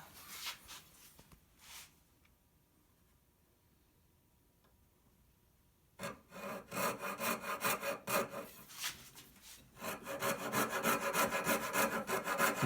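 A coping saw cuts through a wooden guitar headstock in two bursts, a short stretch of strokes, a pause, then a longer run of rapid rhythmic rasping strokes, close and loud, with no talking.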